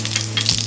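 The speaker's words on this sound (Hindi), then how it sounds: "तेल गरम हो गया है। अब हम इसमें डालेंगे 1 टीस्पून जीरा" Cumin seeds sizzle in hot oil in a kadhai, a brief close crackling hiss with a low steady hum underneath.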